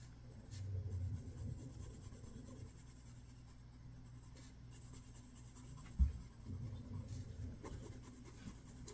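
A red colored pencil rubs across paper while a hot dog drawing is shaded, giving soft continuous scratchy strokes at low level with a brief tap partway through, and no voices.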